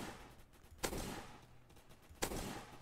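Two separate gunshots fired at zombies in Roblox Zombie Attack, each a sharp crack with a short tail, spaced well apart over a quiet background.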